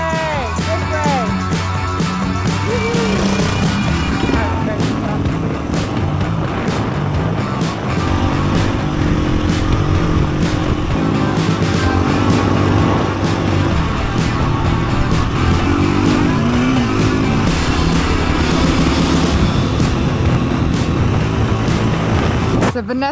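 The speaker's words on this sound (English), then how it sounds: "I hear an engine." An engine runs continuously throughout, a steady motor drone with people talking over it.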